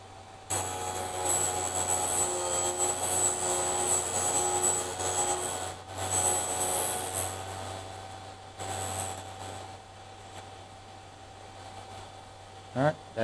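Vevor drill bit sharpener grinding a drill bit, a steady loud high-pitched whine and rumble that runs continuously, cuts out briefly, resumes, then fades to a lower hum before a short burst near the end.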